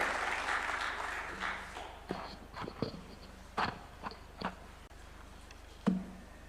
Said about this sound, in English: Let's give him a clap as he approaches the stage.